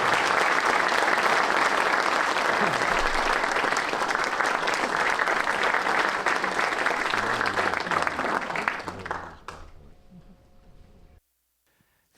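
Loud, sustained applause from a lecture audience fills the hall for about nine seconds, then fades quickly into near silence.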